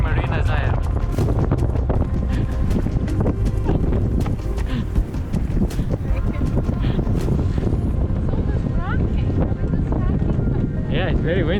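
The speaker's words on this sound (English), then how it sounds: "Yeah, it's very windy." Strong wind gusts across a marina with a Catalina 42 MK2 sailboat moored nearby, a steady loud roar buffeting the microphone throughout, with people talking over it.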